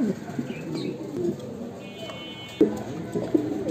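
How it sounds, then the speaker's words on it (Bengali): Pigeon cooing close by, a few soft, low rolling coos that repeat in short bursts, with faint background noise and no clear talking. "আপনার ডাক হয়তো শুনতে পারতেছেন কবুতরটার"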